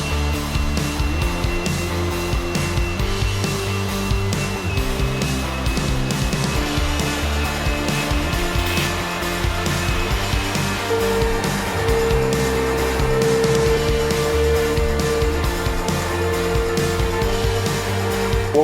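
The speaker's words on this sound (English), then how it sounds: "is to use a leaf blower to blow them." A leaf blower blowing loose chips off a floor during a synthetic floor installation, a loud, steady roaring whoosh that runs continuously with slight surges, close by.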